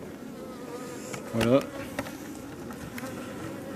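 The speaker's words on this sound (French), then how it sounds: "Donc voilà la bourdonneuse là." Bees from a drone-laying colony hum as a steady close buzz around an opened hive, with a short louder burst partway through and someone speaking briefly.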